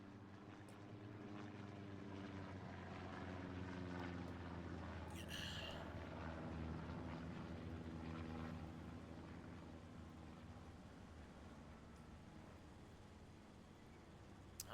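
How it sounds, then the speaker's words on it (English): A reconnaissance plane in a tank video game drones overhead with a steady, continuous propeller-engine hum that holds evenly for the whole stretch, with no voices over it. "Recon plane going out."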